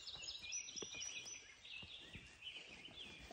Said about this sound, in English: There's a northern parula.